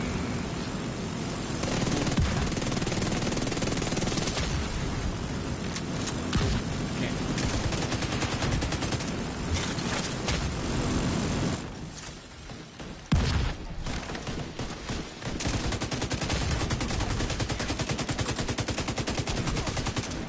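Sustained automatic gunfire from a raid firefight in The Division 2 video game, loud and nearly continuous rapid bursts with a brief lull partway through before the shooting resumes.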